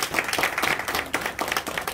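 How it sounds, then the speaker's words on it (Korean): Audience applause at a Korean community welfare agreement ceremony: a short burst of steady clapping from a seated crowd, moderately loud and even throughout, with no talk over it. "김상석 대표님께 다시 한번 큰 박수 부탁드립니다"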